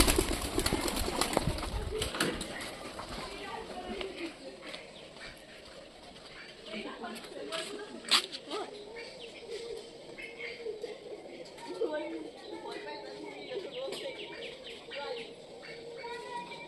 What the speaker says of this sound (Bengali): এখন বর্তমানে দেখতে পাচ্ছি অনেকগুলোই পায়রা চলে এসছে